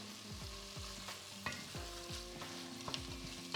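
Red wine is stirred into a sizzling vegetarian lasagne sauce base, a soft steady sizzle under repeated scraping strokes of a spoon against the pan, close and fairly quiet.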